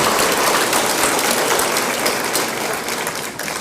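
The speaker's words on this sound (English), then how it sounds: "I would think there's some applause for that." A convocation audience in Durham applauds, with dense, steady clapping from a large crowd that holds loud for several seconds and then begins to ease slightly.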